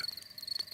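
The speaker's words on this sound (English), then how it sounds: "That is the sound of crickets chirping." Crickets chirping in a cartoon, a steady, high-pitched pulsing trill, fairly faint and continuous.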